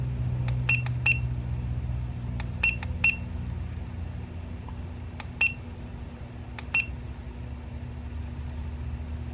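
Tire pressure monitor for trailer axle tires gives a series of short, sharp electronic beeps in small clusters of two or three, repeating irregularly over a steady low hum.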